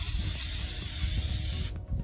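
Engine degreaser sprays steadily from a sprayer with a strange air pump on top in a ventilated garage during a Suzuki Hayabusa engine clean, a close continuous hiss that cuts off near the end.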